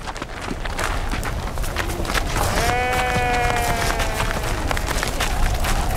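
In a dramatized scene of a flock attacked by wolves, a sheep bleats once in a drawn-out, wavering cry amid a constant noisy rush of movement and scuffling.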